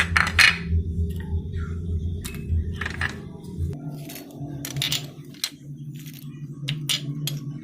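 Dry whole spices for homemade tikka masala clatter and rattle into a grinder jar in a kitchen, a series of close, sharp tinkling drops and scattering taps over a low steady hum.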